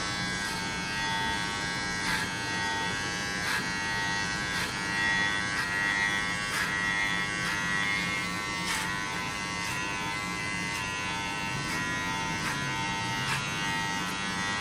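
Electric hair clippers with a number 3 guard, 10 millimetres long, cutting a man's own hair, a steady close buzzing hum with small bumps and changes in tone as the blade moves over the head.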